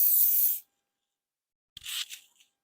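Hairspray hisses from an aerosol can onto hair in two short bursts, the first about half a second long and the second a bit longer and uneven, close and fairly soft, with silence between.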